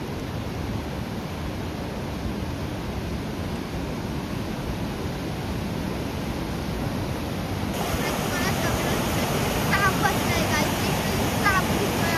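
Water of the Sina river beside a farm rushes in a constant broadband wash, loud and close; the sound shifts slightly partway through, with faint chirps above it later.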